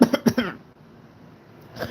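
A human voice imitates a sick dog's cough, a rapid cluster of three or four harsh hacking coughs followed by a brief quiet and a faint start of another.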